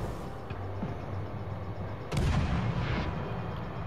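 Warship guns firing in World of Warships: Legends, one loud, heavy naval salvo cracking out midway through a steady engine-like drone, with a rolling boom trailing after it.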